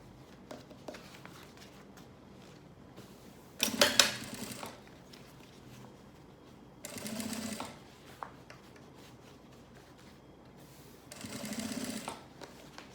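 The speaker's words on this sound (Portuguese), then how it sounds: "Então, vem fazendo esse pesponto na peça." Sewing machine topstitching a garment: three separate whirring runs of stitching, the first loudest, with quiet pauses between them.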